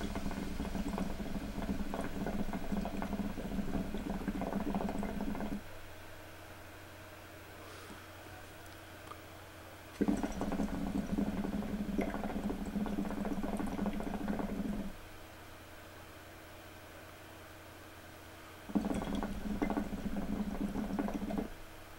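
Water in a hookah base with an overpacked Egyptian bowl of soft black tobacco bubbles steadily in three long draws, each a few seconds of close, dense gurgling separated by quiet pauses.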